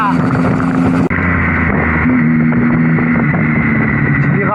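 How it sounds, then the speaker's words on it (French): A Zontes 703F motorcycle from CFMOTO ridden on a road in the rain on Réunion, its engine droning loudly and steadily close up, with a brief dip around a gear change. "on va apprécier la moto sous la pluie, tranquille"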